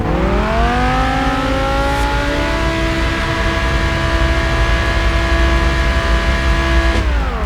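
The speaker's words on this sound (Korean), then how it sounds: "자 여러분들 커스텀된 배기 사운드 들을 수가 있어요" Custom-exhausted Lamborghini Huracán Performante engine holding a loud, steady high-rev drone up close for several seconds before the pitch drops back near the end, without any voices.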